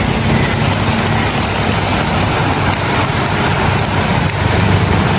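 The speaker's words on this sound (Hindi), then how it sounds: "बारिश भी देखो, पानी ठीक से बारिश है।" A first cold-season downpour in Punjab falls hard and unbroken, its thick rushing hiss steady throughout, with a low background rumble and no voices.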